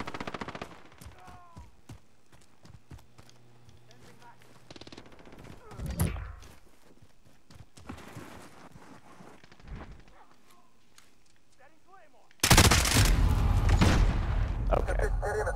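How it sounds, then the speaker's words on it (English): Gunfire in the game Call of Duty: Modern Warfare (2019), scattered sharp shots and bursts early on, then a loud sustained barrage of heavy firing and explosions near the end, with someone talking between shots. "Is shooting his gun perfectly straight."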